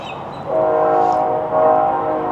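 A passing train sounds its horn in long, steady, overlapping tones that swell in after a quiet start and hold for nearly two seconds, fairly loud over low rumble.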